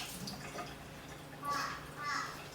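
A damp washcloth, just rinsed of coffee grounds and milk, is squeezed and wrung out, giving two short close splashy bursts of water trickling down over a quiet background.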